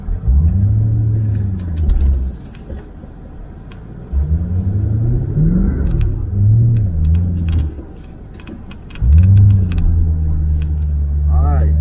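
1998 Lexus SC400 engine idling and revving nearby, with a deep rumble rising and falling in several swells and a steady low drone between them.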